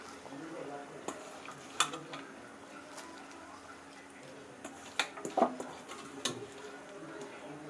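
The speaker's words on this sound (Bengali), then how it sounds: "এখন আমরা কেটে রাখা মূলা শাকগুলো দিয়ে দেব।" A spoon knocks and scrapes now and then in a pot of boiling fish curry as chopped radish greens go in, with soft bubbling underneath, scattered clinks spread across several seconds.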